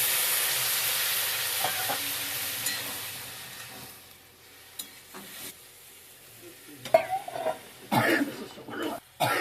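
Water is poured into a pan of potatoes and spices frying for a shrimp and fig curry. A loud, close sizzle fades to quiet, then comes the scraping and clatter of stirring.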